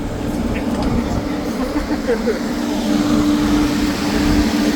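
Megawatt KE70 panel van's turbocharged engine roaring steadily on a dyno at high boost, a loud, continuous, droning engine noise with some speech faintly underneath.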